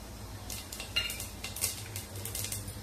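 Cumin seeds hit hot oil in a pressure cooker, giving a quiet, crackling sizzle made of short, sharp pops scattered over a steady low background hum, with no talking.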